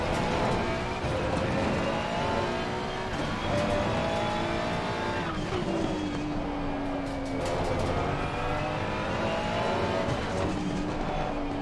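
GT3 race car in Assetto Corsa Competizione at Valencia sliding through a corner, a loud continuous engine drone with shifting revs and a brief tire-scrub squeal, other cars audible close by.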